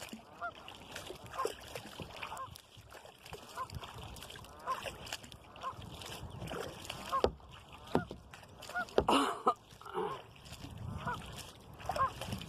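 Canada goose honking repeatedly on water, sharp calls scattered over several seconds, with kayak paddle splashes and hull noise nearby, fairly faint and outdoors in Vermont.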